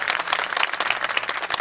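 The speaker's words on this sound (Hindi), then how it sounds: "जोरदार तालियों से उनका अभिनंदन" An audience at a Food Corporation of India 60th Foundation Day function gives a brief burst of dense, steady clapping in a welcoming round of applause.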